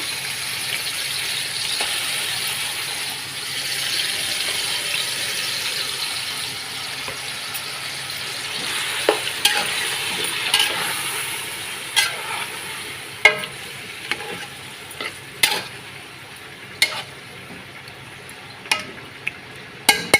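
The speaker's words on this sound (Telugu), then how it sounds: "బాగా కలిపేసానండి ఇలా అయితే అన్నీ వేసి కలిపాను అనమాట" Chicken pieces with spices stirred in a pot, a continuous soft sizzle overlaid with scraping and sharp clinks of a spoon against the metal, growing more frequent in the second half, close with no talking.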